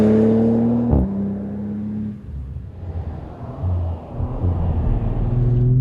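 An Audi RS 4 Competition driven on a race track, its engine droning at a steady pitch, then shifting gears and pulling again through varying revs, the car close and loud with no voices.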